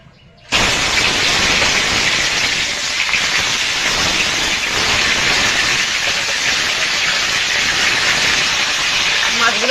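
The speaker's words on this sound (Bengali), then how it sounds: "তেলটা গরম হয়ে গেছে, আমি মাছগুলো দিয়ে দেবো।" Fish pieces hit hot oil with an abrupt loud burst of hissing sizzle that sets in just after the start and holds steady and close for the rest of the clip.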